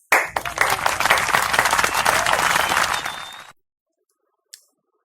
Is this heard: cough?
no